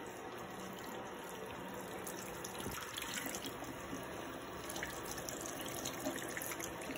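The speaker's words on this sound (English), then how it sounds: "Rinse soap off of hands." Water runs steadily from a tap into a sink as soap is rinsed off hands, a soft continuous splash with faint dripping and no talking.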